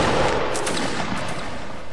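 A reenactment regiment fires a musket volley, a dense burst of gunfire that fills the whole moment, loud and sustained with several overlapping shots and no talk.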